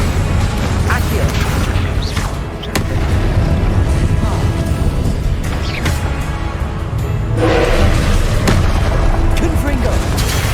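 Confringo blasting spells cast in Hogwarts Legacy on PS5, a dense run of booming blasts and crashing impacts layered over game music and effects, with a shouted voice among them.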